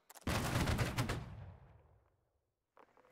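Musket volley from a line of soldiers in the Holdfast: Nations At War battle game: one loud, massed crack of gunfire that rolls into a long, fading tail, then a brief faint noise near the end.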